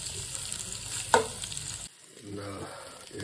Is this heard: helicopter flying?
no